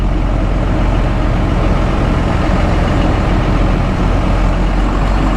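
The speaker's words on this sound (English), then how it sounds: "just pulling out of the driveway, kind of at idle" A truck engine idles steadily as it pulls out of a driveway, with a loud, continuous low rumble close by, no voices, and fuel pressure recently corrected after a lack of power.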